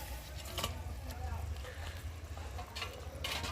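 A spatula stirs tilapia mustard curry bubbling in a pan, with a continuous gurgling simmer and several rough scraping strokes, close up, while a faint indistinct voice sits in the background.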